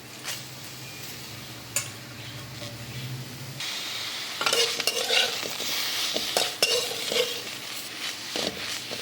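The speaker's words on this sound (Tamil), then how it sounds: "இப்போ கருவேப்பிலை நல்லா வறுத்து எடுக்க வேண்டியது தான்." Curry leaves are stirred and dry-roasted in a pan, with a soft sizzle and scraping of a spoon against the metal in repeated close strokes.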